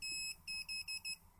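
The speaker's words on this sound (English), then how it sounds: "Yep, that beeps, and so the positive indicator is the right way around." An electronic kit buzzer on a CMOS 4511 build beeps five times in quick succession, a shrill steady tone with short gaps, close and fairly loud over a quiet background.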